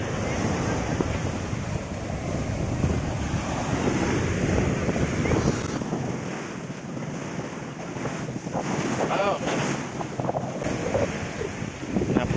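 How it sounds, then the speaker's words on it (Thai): Strong wind buffets the microphone at Jomtien beach while waves wash in steadily, a continuous loud roar of gusts and surf with a faint voice now and then. "ลมก็แรงนะครับ"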